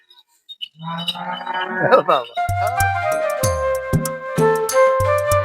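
Two medium-sized dairy cows moo loudly and close by on a Bangladeshi farm, one long low call followed by repeated bellowing, with a voice talking over them.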